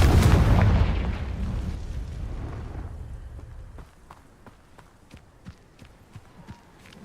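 A Confringo spell blast in Hogwarts Legacy opens with a loud, booming explosion that rolls off over a few seconds, then gives way to quieter scattered footsteps and small impacts.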